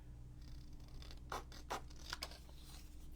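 Long scissors snip through paper tickets in a few quiet, scattered cuts over a low steady background hum, with no talking.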